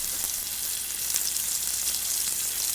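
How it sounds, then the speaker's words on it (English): Salmon searing in a pan with olive oil and butter, a bright, steady hiss of fat crackling close by, with faint tiny pops scattered through and no speech. "We're going to sear this in a pan and make dinner."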